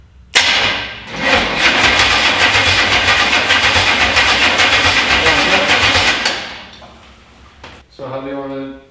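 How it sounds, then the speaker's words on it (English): A 1964 Chevrolet C10 pickup's small block V8 cranks over without starting for about six seconds, loud and close, with a rapid rhythmic starter churn; a voice comes in after it stops. "we should crank it over, not trying to start it, but see where the timing mark is on the flywheel"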